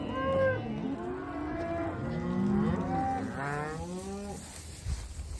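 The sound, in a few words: cattle mooing, cows and bulls on a farm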